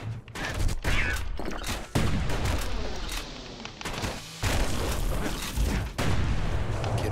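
Security skiffs in a video game unleash sustained heavy gunfire. The bursts are dense and loud, with booming impacts that run almost continuously and a few brief drops between volleys.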